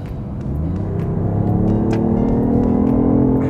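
A BMW i8 hybrid's three-cylinder petrol engine running on the move near a solar power plant in Rajasthan: a steady, loud, low rumble with a gradually rising drone, heard close without talk.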